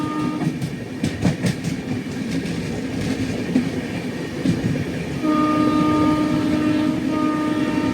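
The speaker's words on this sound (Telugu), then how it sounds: "ప్రశాంతి ఎక్స్ప్రెస్ ఓవర్టేక్ కొడుతుంది" The Prashanti Express, train no. 18464, overtakes another train near Kovvur: a loud, continuous rumble of wheels on rails with clickety-clack beats and a sustained horn tone entering about five seconds in.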